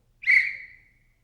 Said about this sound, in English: this can be accomplished by a simple blow of the whistle.